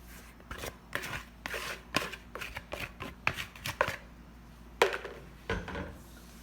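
Soft, slightly sticky milk bread dough is worked by hand on a countertop, giving irregular close slaps, thumps and squishes in quick bursts with short gaps, and no voices.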